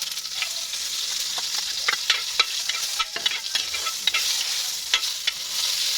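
Garlic fries in a pan as it is stirred: a continuous close sizzle with scattered sharp scraping and clinking from the utensil, and no talking.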